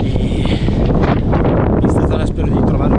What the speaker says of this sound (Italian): sperando che questo vento calmi